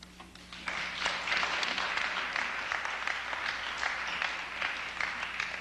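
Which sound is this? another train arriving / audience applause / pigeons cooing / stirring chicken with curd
audience applause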